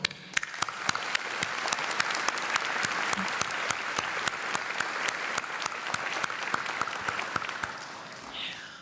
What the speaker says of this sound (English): so applause for all of you